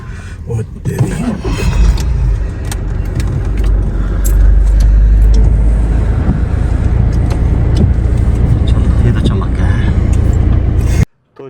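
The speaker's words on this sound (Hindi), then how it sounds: "अब गाड़ी को लगाते हैं कोल्ड स्टार्ट में पहले" A car engine running after a cold start, a steady low rumble that holds loud and continuous throughout, with a voice talking over it, then cutting off abruptly near the end.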